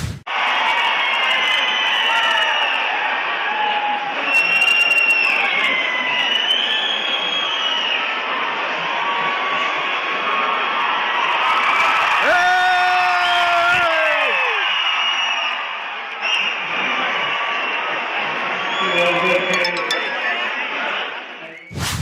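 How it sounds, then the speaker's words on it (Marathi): A crowd in Baramati cheers and shouts as Sharad Pawar arrives to speak, a loud, dense roar of voices and whoops that holds steady throughout, with brief swells of louder shouting. "बारामतीकरांनी किती जल्लोष केला हे दाखवणारा हा व्हिडिओ किरण मानेंनी पोस्ट केला आहे"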